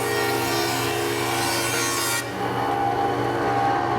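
A 4 BCT woodworking hand planer shaving wood, giving a continuous close scraping rasp of the blade across the board that eases off partway through and then carries on more quietly.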